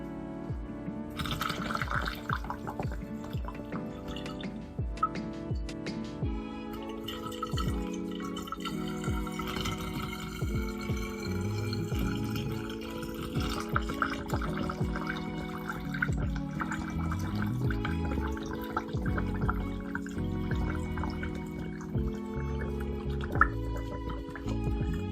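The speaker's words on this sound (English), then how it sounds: "And I'm going to use my funnel to pour the vodka in." Vodka poured through a funnel onto vanilla beans in a bottle gives a long, steady gurgling trickle with shifting pitch as the liquid fills, close and continuous throughout.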